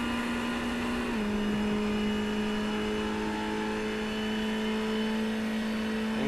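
A GT3 race car's engine comes through loudly on the in-car audio, a steady droning tone that dips once early on, then holds at a constant pitch under a bright, continuous mechanical roar.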